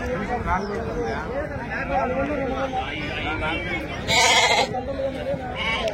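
Goats at a Saturday livestock market in Angallu bleat several times in wavering cries, close by, mixed with someone talking and general crowd noise.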